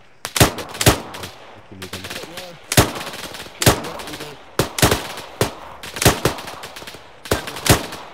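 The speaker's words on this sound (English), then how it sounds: "Cocker taking shots from the north somewhere" Rapid rifle shots and bursts crack repeatedly in a snowy ArmA 3 firefight, loud and close, irregularly spaced throughout, with brief radio-like voice fragments underneath.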